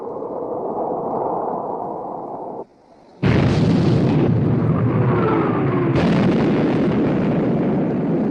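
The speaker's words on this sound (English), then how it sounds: "Torpedo hit amidship, sir." A film sound effect of a torpedo striking a ship amidships in a 1960 naval war drama, a loud sustained roar that drops out briefly, then erupts into a heavy booming explosion with rumbling debris continuing.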